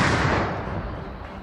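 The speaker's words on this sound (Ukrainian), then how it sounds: "Гармата! Постріл!" A heavy, booming artillery cannon shot with a long rumbling tail fading over a second or so, loud and close.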